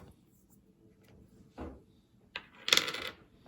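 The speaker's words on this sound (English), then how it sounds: "So you're rolling for dice?" Dice roll during a tabletop war board game, a few short rattling clatters and a final sharper tumble on the table, close and mostly alone in a quiet room.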